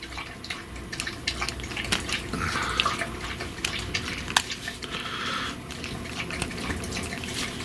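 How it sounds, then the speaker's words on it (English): Soft, irregular lapping and splashing of water, like a dog drinking, with scattered drips and clicks at close range, no speech. "the dog's getting a drink of water, of course"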